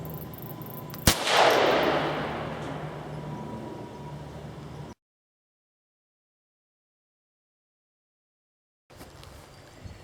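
A single sharp, loud 6.5 rifle shot fired through a Terminator TT muzzle brake cracks out near the start, then a long fading boom and rumble that cuts to silence before faint outdoor ambience resumes.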